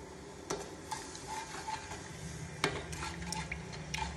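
A spoon stirring honey into boiling sugar syrup in a pot, a bubbling simmer broken by several distinct clinks and scrapes of the spoon against the pan.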